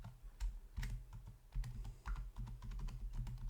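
Code being typed on a computer keyboard: quick, close, fairly soft key clicks in irregular bursts with brief pauses between words.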